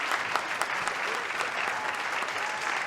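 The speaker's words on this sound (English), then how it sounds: "Nice round of applause there." A dense round of applause from a studio audience at a live-streamed show, steady and fairly loud throughout with no talking over it.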